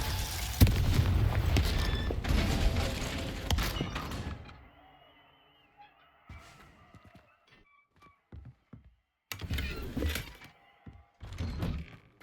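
A Confringo fire-blast spell explodes in Hogwarts Legacy with a loud, sustained roaring burst, then fades into sparse thuds and creaks before two shorter blasts flare up again.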